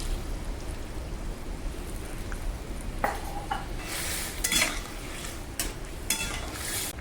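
Flour is stirred into milk for pepe shukto, a Bengali papaya dish. A soft whisking swirl sits over a low hum, with a few brighter clinks of utensil on the bowl midway.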